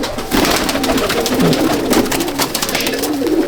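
Pigeons cooing in a large pigeon loft housing Andhra and Malwai breeds, a steady murmur of overlapping coos and fluttering close by, continuous throughout with no talk.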